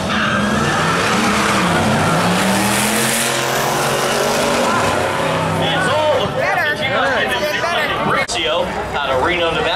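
A 500-horsepower blown T-Bucket hot rod launches at a drag race with a loud roaring engine and tire squeal that rises in pitch and swells, while an announcer talks over a noisy crowd.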